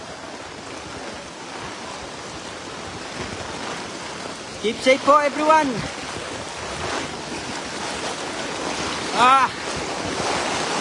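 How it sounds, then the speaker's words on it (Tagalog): Strong current of floodwater surging through a flooded barangay in Lemery, Batangas, a steady broadband rush under a person shouting and talking loudly up close, with wind buffeting the microphone. "Sadyang malakas ang agos."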